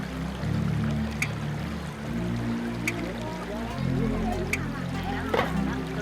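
Water rushes and splashes steadily over the rocky Kaeng Khut Khu rapids on the Mekong River, a broad continuous wash close by with occasional small splashes, while voices speak quietly beneath it.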